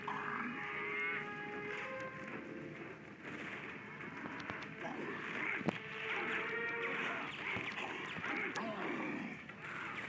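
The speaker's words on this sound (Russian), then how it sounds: "О, корова." A cow moos in the PS2 game Hulk: Ultimate Destruction, a drawn-out bovine call that rises and falls over steady game ambience and scattered clicks.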